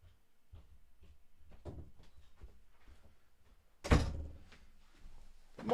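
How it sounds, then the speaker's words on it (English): A house door is handled and locked: a run of soft clicks and taps, then a sharp, loud thunk near the end, followed by quieter rattling. "And I locked the door."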